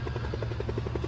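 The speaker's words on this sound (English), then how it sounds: "It looks just like a police helicopter." A police helicopter passes overhead with a steady, rapid rotor chop and a constant engine drone throughout, sounding fairly near.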